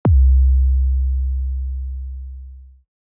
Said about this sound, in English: the more extended that 808 is going to sound